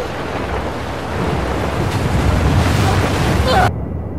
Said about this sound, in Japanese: 波に襲われてる時に